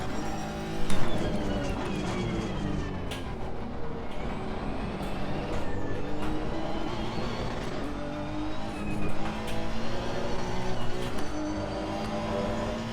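A race car engine bounces on the rev limiter during a fast lap, heard from onboard as a loud continuous engine drone with revs rising and falling over road and wind noise.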